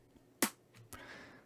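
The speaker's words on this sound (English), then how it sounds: "We have a pretty standard clap made up of 2 layers." Second layer of a snappy, tight layered clap sample, heard as a single sharp crack followed by a softer, shorter snap, faint and dry with no other sounds around it.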